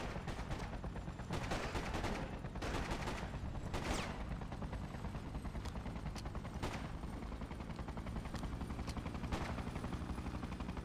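Rapid gunfire from the video game Freedom Fighters, with dense overlapping bursts of shots and louder single cracks throughout, over a steady rumbling battle backdrop.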